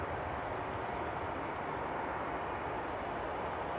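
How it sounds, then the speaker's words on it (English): An Airbus A340-300 taxiing at Frankfurt Airport on a winter morning, its engines producing a steady, broad roar that stays constant throughout, moderately loud and unbroken. "there's also an A340-300 taxiing on this side"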